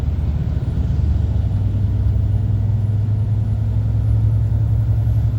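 Steady low diesel rumble from inside an HGV lorry cab as it pulls out to overtake on the A92 in Scotland, loud and continuous with a sustained engine drone and no talk.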